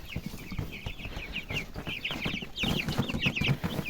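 Several wet chickens cluck and chatter close by in a steady, busy stream, with soft rustling and low thumps underneath.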